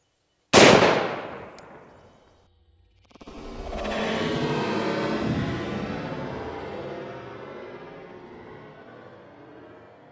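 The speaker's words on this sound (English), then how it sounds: "We're gonna start off with the soda pop bottle. We're gonna shoot it" A gunshot hits a Firebird exploding target on a soda bottle, setting off a sharp crack. A second, heavier blast follows that rumbles and slowly fades outdoors.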